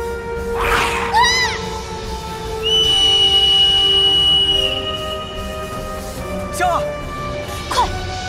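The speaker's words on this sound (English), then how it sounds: "Finally, the whistle. She used the whistle." A whistle sounds in the video game Xuan-Yuan Sword VII with a long, bright, sustained tone and a few shorter high chirps. Voices talk throughout.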